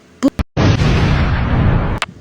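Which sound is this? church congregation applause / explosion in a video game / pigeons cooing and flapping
explosion in a video game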